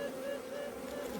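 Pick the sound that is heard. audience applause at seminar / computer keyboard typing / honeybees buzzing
honeybees buzzing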